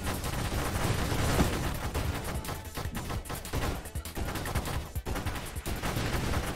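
Dense, rapid gunfire from the space shooter game Nova Drift, with loud overlapping shots and explosions rattling on continuously without pause.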